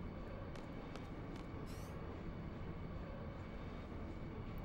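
Train interior ambience from the game Final Fantasy VIII: a constant low rumbling drone with faint rhythmic rattles and a brief metallic squeal in the middle, steady and alone without voices.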